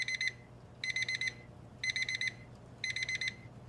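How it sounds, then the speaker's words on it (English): A timer alarm sounds in four short bursts of rapid, high electronic beeps, evenly spaced and clear over a quiet room hum. "Beep, beep, beep. Time is up right on the dot for today."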